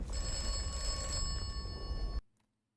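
A telephone in the video game Atomfall rings with a continuous metallic bell trill, loud and close, then stops abruptly, leaving silence.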